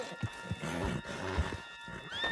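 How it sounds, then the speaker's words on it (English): A horse whinnies over a few rhythmic hoof thuds in the video game Red Dead Redemption 2, close and fairly loud, with a brief rising tone at the end. "on the back of John's horse"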